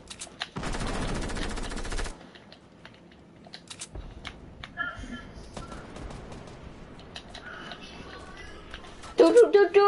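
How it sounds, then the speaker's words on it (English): Minigun fire in the Fortnite video game: a loud, sustained rapid burst of automatic gunfire lasting about a second and a half, followed by quieter game sounds and scattered clicks, with a louder flurry of shots near the end. "the minigun."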